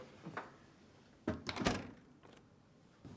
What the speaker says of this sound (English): push it back into the dishwasher and close the door